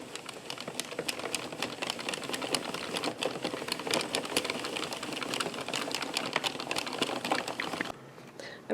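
An addi knitting machine cranks out short row socks, giving off a steady, fast mechanical clatter of needles and carriage ticking continuously at close range, with a brief quieter pause near the end.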